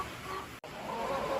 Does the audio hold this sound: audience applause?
no